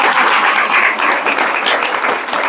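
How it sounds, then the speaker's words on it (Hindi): Audience applause, a dense, loud burst of many hands clapping continuously with no pauses. "ताली बजाओ,"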